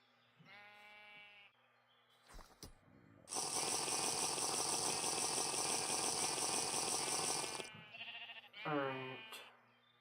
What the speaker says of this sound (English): Is that a sheep?